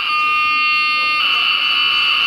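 A lightning detector alarm sounds as a loud, shrill electronic tone, holding steady and then shifting to a brighter, harsher pitch partway through.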